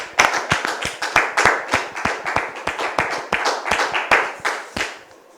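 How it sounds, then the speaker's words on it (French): An audience applauds to welcome a visitor, a dense burst of hand claps at steady strength that fades out near the end, with no voices over it. "Sous vos applaudissements, s'il vous plaît."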